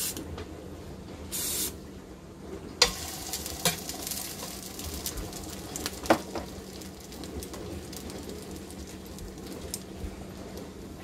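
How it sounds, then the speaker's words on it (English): Eggs frying over low heat inside a ring in a pan for breakfast sandwiches, giving a steady close sizzle and hiss with a few sharper clicks and scrapes from a utensil, no talk. "You want to do this on low heat if you're going to form the eggs."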